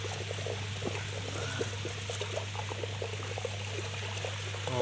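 Pond water pours through a fine 150-micron filter bag after a powerful pump, a steady close splashing stream with small trickling bursts over a constant low pump hum, no voices.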